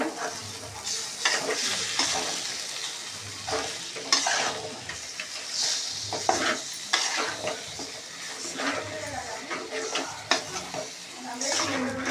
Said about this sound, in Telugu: చికెన్ వేసుకోవాలి.